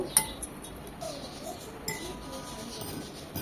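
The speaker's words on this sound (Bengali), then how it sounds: "খুব ভালোভাবে ডিমটাকে মিশিয়ে নেব।" Eggs are beaten for bread pudding with a utensil clinking against a bowl, a few sharp taps over quieter scraping and stirring, close and fairly faint.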